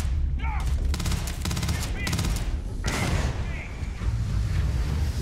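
Gunfire in the video game Starfield: rapid bursts of automatic shots in several rattling volleys, loud and close, followed by a booming blast and lingering rumble, with someone speaking German over the action.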